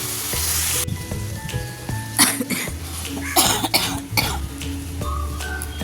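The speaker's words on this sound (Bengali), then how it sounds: "কাশি যেন কমতেই চাইছে না, কি বিরক্তিকর" Several harsh coughs burst out close by over the constant sizzle of cabbage and fish head frying in a pan, with some clattering from stirring.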